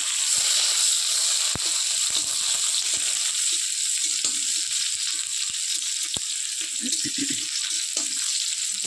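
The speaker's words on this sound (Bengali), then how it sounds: "তেলটা গরম হয়ে গেছে এর মধ্যে একটা রাখা পেঁয়াজটা দিয়ে দেবো" Onion sizzling in hot oil, a bright, steady frying hiss that stays loud throughout, with a few faint clicks and small bubbling pops scattered through it.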